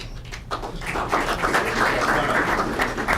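Audience applause during a group recognition ceremony as names are read out, steady dense clapping building after a brief start and holding at a fairly loud level throughout.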